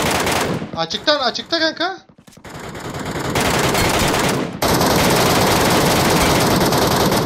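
Rapid automatic gunfire from PUBG Metro Royale rattles loudly and nearly continuously, with dense bursts filling most of the clip and a player speaking briefly over the shooting.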